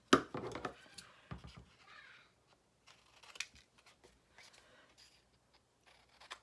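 Scissors snip through a paper tag for a craft project, a few sharp close cuts at the start and then quieter, scattered snips and paper handling.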